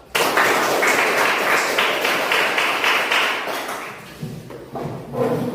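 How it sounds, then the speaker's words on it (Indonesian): A group in a classroom breaks into applause for several seconds, a dense, fairly loud patter of clapping that tapers off toward the end. "kita tepuk tangan untuk bersama"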